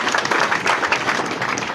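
Dense, steady clapping from a crowd, a continuous wash of many hands with no voices on top.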